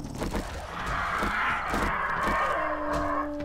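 Birds caw harshly in the video game 7 Days to Die, a continuous raucous squawking that swells and holds, close and fairly loud, ending with a steady tonal note.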